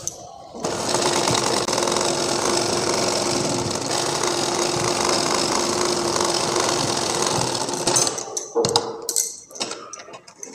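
Close up, a sewing machine runs steady and unbroken as it stitches a trouser from one edge to the other. The motor hum holds even for several seconds, then stops and gives way to a few handling clicks and rustles.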